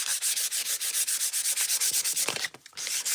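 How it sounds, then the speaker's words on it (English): Sandpaper rubbed back and forth across the top of a plain wooden box in a fast, even rhythm of raspy strokes, close and loud, with a brief pause near the end before it resumes. "And I just want to sand the top down"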